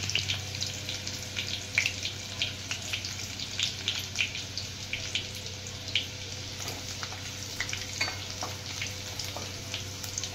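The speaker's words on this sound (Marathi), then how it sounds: "कांदा बारीक कापून घेतला की लगेच लाल होतो बघा, फ्राय झाला लगेच" Finely chopped onion with cumin and mustard seeds fries in a kadhai over a high gas flame, giving a steady close sizzle broken by light stirring clicks, with no talking.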